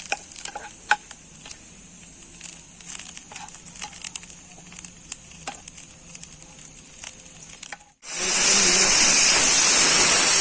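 Onions crisp in a pan of oil for egg biryani, a close crackling sizzle with irregular pops and stirring clatter, then an abrupt gap followed by a much louder, dense hissing sizzle.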